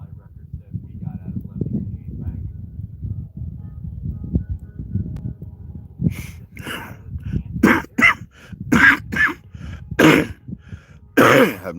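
Someone talks at length in a low voice, then breaks into a run of harsh, repeated coughs close to the microphone.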